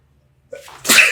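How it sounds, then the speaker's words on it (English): A single close sneeze during a Disney Lorcana card game: a short breathy intake followed by a sharp, loud burst. "And what's that? A sneeze?"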